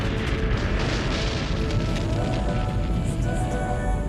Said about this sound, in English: This is an explosion powerful enough to cause an actual apocalypse.